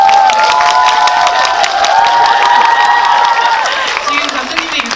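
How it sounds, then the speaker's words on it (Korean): A cinema audience at a screening Q&A in a Seoul multiplex applauds the film's director, loud dense clapping and cheering from a packed house, with voices over the clapping toward the end. "장항 감독님께 박수 한번 치고"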